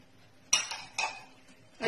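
A spoon stirs capsicum, green chillies and curry leaves in a pan, making three distinct metallic scrapes and knocks against the pan at a steady pace, with no talking.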